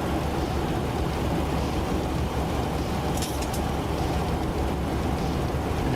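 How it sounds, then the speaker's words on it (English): Steady broadband wind roar fills a Boeing 737 cockpit in the X-Plane 12 flight simulator, a loud continuous rushing hiss without a break, with no talking. "the wind noise isn't bad compared to Microsoft Flight Simulator."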